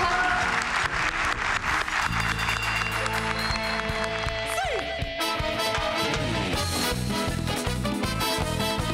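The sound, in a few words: audience applause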